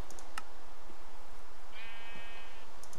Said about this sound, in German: Und ein Schaf ist das gewesen.